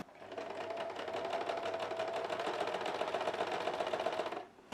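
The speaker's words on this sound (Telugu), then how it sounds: "ఇప్పుడు మనం కుట్టు వేయడం స్టార్ట్ చేసుకోవాలి." An electric sewing machine with a zipper foot stitching thread piping runs in one steady, fast, whirring stretch of rapid needle strokes, then stops.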